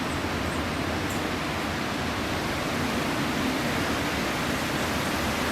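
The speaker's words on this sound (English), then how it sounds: "I'm sorry if you can hear the storm that is raging outside right now," Steady, loud broadband roar of a windy, rainy storm raging outdoors, a constant wash of wind and rain with no breaks or voices.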